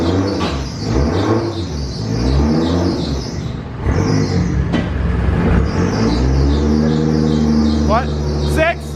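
A car engine revs hard and climbs through the gears, its pitch rising and dropping with each shift, close and loud, while excited voices shout over it.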